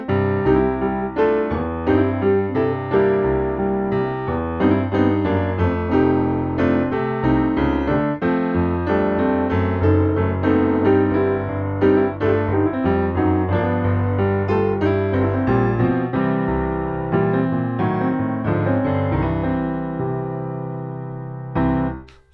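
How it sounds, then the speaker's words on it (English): An instrumental blues tune plays on its own, steady and loping with full chords and a bass line, finishing on a held closing chord. "An 8-bar blues in New Orleans might sound like this."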